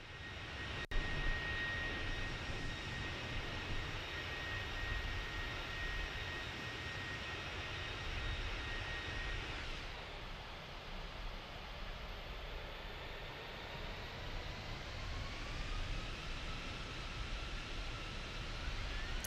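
Airbus A320 jet engines roaring on takeoff in Microsoft Flight Simulator, a loud continuous broadband rush with a faint whine, shifting in tone about halfway through as thrust and speed build; no talk.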